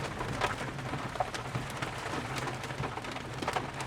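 Heavy rain patters steadily on a white BMW i4 40 Pro electric car during a wet drive, a dense soft hiss of drops with scattered sharper taps, moderately quiet and continuous with no speech.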